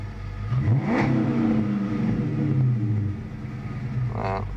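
A Chrysler 300 SRT8 engine idles, then revs up once with a rising roar that holds and slowly settles back down, close by, with no talking.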